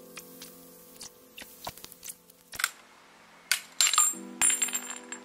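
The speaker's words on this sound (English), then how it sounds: "This is actually just a plumber's tool for cutting sort of plumbing pipes" A plumber's pipe cutter works on a mountain bike part, giving sparse, quiet metallic clicks and ticks that build into sharper ratcheting scrapes toward the end.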